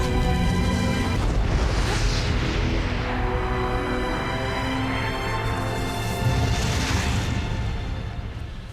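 A nuclear power plant explodes in a film dramatization of the 1986 Chernobyl disaster: a dense, sustained roar with deep rumbling and layered musical tones swells through the clip, staying loud and continuous throughout.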